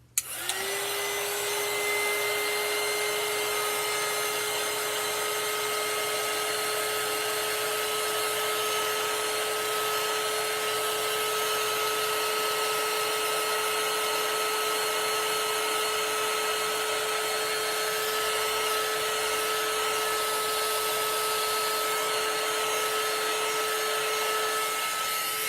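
Steady, loud electric blower whirring without a break while green paint on a shadow box painting is dried, a continuous even drone with a high whine and no speech.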